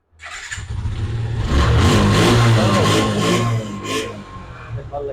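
A 2023 Yamaha FZ V2 motorcycle engine cranks and catches, then revs up loud and close into a sustained growl that eases slightly toward the end.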